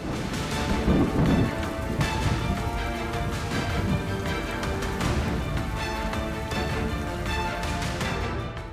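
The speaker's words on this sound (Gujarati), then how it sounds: "અમરેલી શહેર અને ગ્રામ્ય વિસ્તારમાં વરસાદી ઝાપટા પડ્યા" Pre-monsoon rain showers over town and villages in Amreli, Gujarat, a steady dense patter of rain with occasional louder rumbles, continuous and fairly loud throughout, with no voices.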